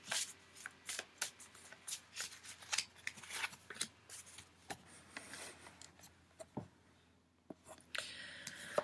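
Tarot cards shuffled and drawn close up, a quick series of crisp riffling slaps and rustles, then quieter handling and a brief card flick near the end.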